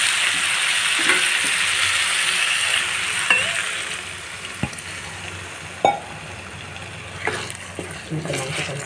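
Ingredients for an eggplant and tomato curry frying in a pan make a steady bright sizzle, broken by occasional clinks and scrapes of stirring, with quiet talking in the background.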